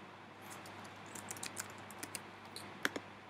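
Someone types a short name on a computer keyboard, a quick scatter of light, fairly faint key clicks over a soft background hiss, ending with two slightly sharper taps.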